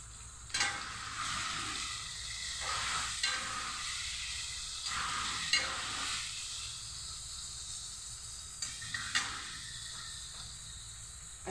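Chopped tomato and slit green chillies sizzling in a pan with paneer, giving a continuous hissing fry with intermittent stirring bursts, moderately quiet and without talk.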